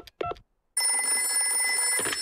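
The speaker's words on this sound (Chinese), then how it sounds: "你们不要担心，我马上打个电话给棕熊医生。" A telephone rings steadily in a Peppa Pig cartoon as Madame Gazelle calls Dr Brown Bear, a bright electronic trill following a brief voice, then ending just before another voice begins.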